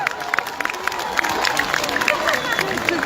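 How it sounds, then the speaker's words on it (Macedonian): Crowd on a city square at a New Year tree lighting clapping and cheering, a continuous outdoor patter of applause with murmured voices mixed in. "Може ли еден аплауз да го поздравиме човекот?"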